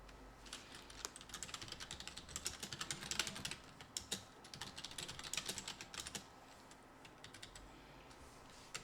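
Rapid, irregular keystrokes on a computer keyboard while text is entered in a design program, close and steady with no voices, a faint background hum beneath.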